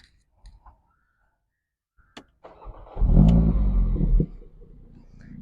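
A 2014 Mercedes AMG CLA 45 engine fires up after a few clicks, then revs hard and close for about a second before cutting off, leaving a brief quiet tail.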